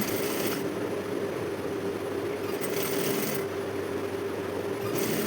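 A sewing machine stitches a blouse sleeve with a steady, close mechanical whirr and hum, running continuously with slight rhythmic variations.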